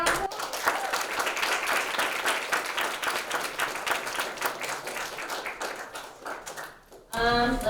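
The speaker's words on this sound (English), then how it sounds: "everyone give them a big round of applause." An audience gives a round of applause for a presenting student group, with dense, even clapping for about seven seconds before it cuts off and a voice begins speaking.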